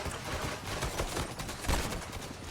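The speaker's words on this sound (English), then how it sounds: "Don't these gunshots sound good?" Rapid bursts of video game gunfire crackle in quick succession, dense and sharp, with several louder shots standing out near the end of a short volley.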